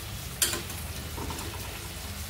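Masala spice paste sizzles steadily in a pan alongside stuffed bitter gourd, a soft even crackle with one sharp clink near the start.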